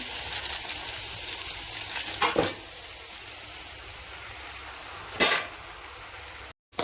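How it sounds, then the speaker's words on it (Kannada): Onions fry in a pan until golden, a continuous moderate sizzle with two brief louder bursts of stirring or scraping partway through and a short dropout near the end. "ಈರುಳ್ಳಿ ಕೂಡ ಸ್ವಲ್ಪ ಕಲರ್ ಚೇಂಜ್ ಆಗ್ತಾ ಇದೆ ಗೋಲ್ಡನ್ ಕಲರ್ ಬರಬೇಕದು ಸ್ವಲ್ಪ"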